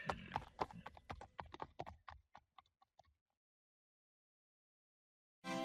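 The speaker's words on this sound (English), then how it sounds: "the horse starts slowly clopping away" A horse slowly clops away, its distinct hoof beats spaced and steady, fading gradually into silence before a brief sound starts at the very end.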